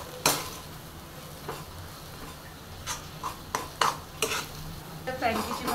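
Frankie roll vegetable filling with coriander being stirred in a pan, soft sizzling under a series of sharp spoon scrapes and clinks against the metal, close and fairly quiet.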